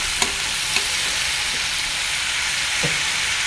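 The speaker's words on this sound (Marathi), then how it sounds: "कांदा आपल्याला चांगला गुलाबी परतून घ्यायचा आहे" Onion fries in a pan until pink for a spicy onion chutney, giving a loud, even, close-up sizzle with a few faint clicks of a utensil.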